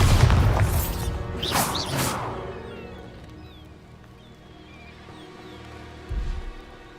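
Bombarda explosion spell in Hogwarts Legacy strikes with a couple of heavy close booms and crashes in the first two seconds, trailing off into a faint rumble, with a dull thud near the end.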